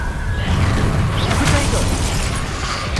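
Spell effects from Incendio and Expelliarmus in Hogwarts Legacy burst and crackle with whooshing, clattering impacts, a dense loud flurry over a low rumble lasting a few seconds.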